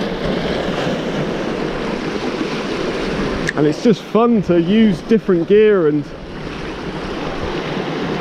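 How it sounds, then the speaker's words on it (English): Choppy coastal sea with a steady swell washing broadband and continuous, with wind noise across the mic, while someone talks over the middle stretch. "you can see we've got a bit of chop in the water today, a nice bit of swell"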